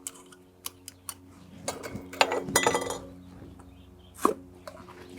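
Hot glass jars used for solar dyeing clink and tap sharply as they are handled, a few scattered knocks and one busier cluster of rattling contact, close by and with no talking.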